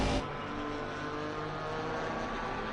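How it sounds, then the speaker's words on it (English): Loud, steady engine drone from a Mercedes-AMG GT4 race car in Assetto Corsa Competizione at Monza, a dense continuous roar with no voices, holding level after a brief louder start. "That AMG engine is very loud."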